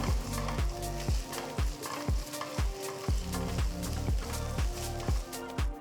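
Ginger garlic paste and finely chopped green chilli sizzle in a frying pan for potato curry, with steady frying under a regular rhythm of stirring strokes scraping the pan about twice a second, close and clear, no talk.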